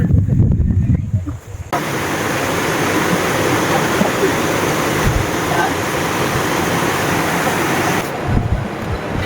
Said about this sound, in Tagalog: Naririnig ko na. Baka ilog lang yan.